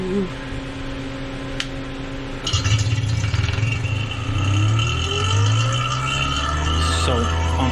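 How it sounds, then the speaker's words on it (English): An electric vacuum pump starts up with a sudden jump in level and settles into a steady motor drone with a rising whine, hooked to an AAON rooftop HVAC unit that has been wet and under leak repair. Faint talk can be heard underneath. "so we'll see just how fast this pump on startup"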